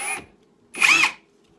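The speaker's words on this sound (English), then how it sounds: "Oh, this thing sounds good." A Ryobi hammer drill whirs in two short bursts, a brief spin followed by a slightly longer whine after a pause, close and moderately loud, with no talking.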